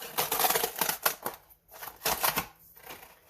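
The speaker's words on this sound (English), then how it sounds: "let's unbox the case. So, let's quickly peel this open." Raspberry Pi 4 aluminium case packaging being peeled open by hand, a close series of crisp crinkling and tearing bursts with short pauses between pulls.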